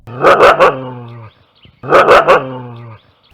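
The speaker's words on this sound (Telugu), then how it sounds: "కిందున్న కుక్క మొరుగుతుంది" Two bursts of loud, deep dog barking, each a quick cluster of three barks, separated by a short pause.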